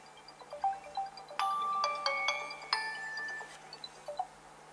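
Honor 20i phone ringtone plays a bright, repeating electronic melody of a few clear tones for a couple of seconds, then cuts off as the phone is flipped face down to mute it, leaving only faint room noise.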